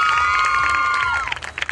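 A crowd at a club awards ceremony for an interior design competition breaks into applause and cheering, loud and mixed with whoops and a high sustained tone that bends downward before the clapping grows choppier.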